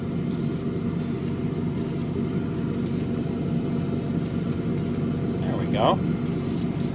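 Light coat of spray paint applied to a motorcycle LCD shade for a CFMOTO 650 MT, short repeated aerosol hisses over a steady room rumble, with someone speaking briefly near the end.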